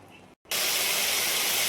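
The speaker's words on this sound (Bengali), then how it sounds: "ডাঁটা আলুর পোস্ত, শাক ভাজাটা হচ্ছে" Leafy greens hit a hot pan in a home kitchen and burst into a loud, continuous hiss of frying after a brief silence.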